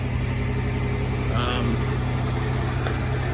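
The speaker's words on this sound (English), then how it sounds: "The engine sounds like a sewing machine." The engine of a 1977 Ford Country Squire runs smoothly as the car rolls along a road in the rain in Oregon, a steady even hum with a person's voice present.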